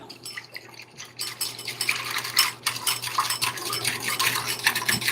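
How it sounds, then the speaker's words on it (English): Rapid metallic clinking and scraping of a whisk beating inside a bowl, close and continuous after a sparse start, with a faint low hum underneath. "Now I'm gonna whisk it out."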